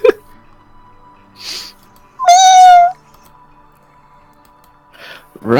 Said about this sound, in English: pouring out of the back rooms comes terrible, massive swarms of cats